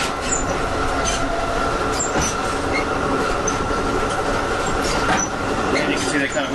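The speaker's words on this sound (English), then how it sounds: "This is a coupling between two of the cars." Continuous rumbling rattle of a moving Amtrak California Zephyr train, with clanks and metallic squeaks from the coupling between cars, steady and close.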